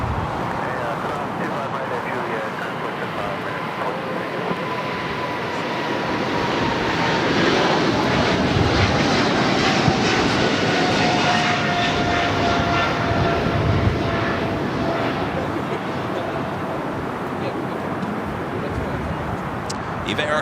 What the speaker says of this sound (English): Cargo, the 777 freighter, taking off 25 left, heading to Taipei, flight 609.